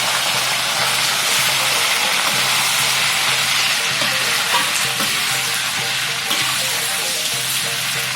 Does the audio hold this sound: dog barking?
no